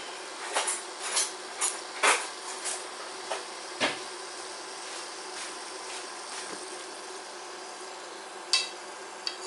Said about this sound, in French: On va regarder si l'huile est assez chaude, donc on va mettre une petite boule de pâte dans l'huile